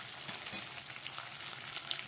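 Ground spices such as cumin powder frying in hot oil in a pan for a vegetarian jackfruit curry, a soft steady sizzle with one brief louder crackle near the start, no talking.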